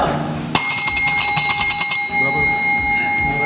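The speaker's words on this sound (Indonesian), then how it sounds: "Bel." A bell struck once, then a ringing run of fast, even strikes for about a second and a half, leaving a bright metallic tone that lingers and slowly fades. Loud and close, with no talking over it.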